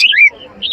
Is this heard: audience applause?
no